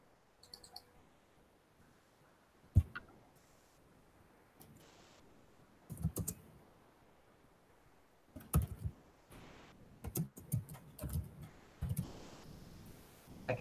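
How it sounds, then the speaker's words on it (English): Faint, sporadic keyboard typing during an online dice game session, with scattered clusters of soft clicks and keystrokes separated by quiet gaps, no voices. "I can hear you typing"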